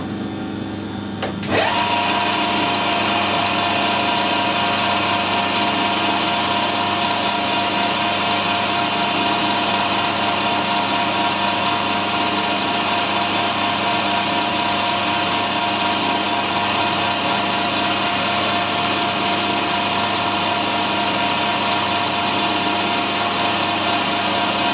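A turnip turned between centres on a lathe taking a finishing cut at 1000 RPM, heard as a steady, loud motor whine with a bright tonal hum that starts abruptly and holds continuously throughout.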